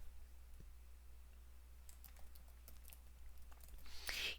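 Someone types R code on a computer keyboard in short, faint bursts of light clicks, with a louder clatter near the end and no talking.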